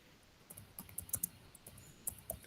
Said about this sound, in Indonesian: Kemudian ada Kak Andre lagi sedang mengetik.